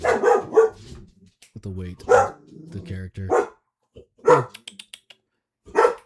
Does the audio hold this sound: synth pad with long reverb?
no